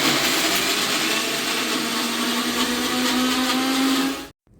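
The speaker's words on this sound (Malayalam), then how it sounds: "എന്നാൽ പിന്നെ നമുക്ക് ചമ്മന്തി അങ്ങ് അരയ്ക്കാം" Electric mixer grinder blending coconut chutney in a home kitchen, a loud steady whirring roar that runs continuously for about four seconds before cutting off abruptly.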